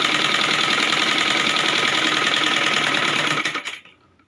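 A sewing machine stitching the waistband of a Rajputi lehenga, a fast steady mechanical whir running continuously up close, then slowing and stopping near the end.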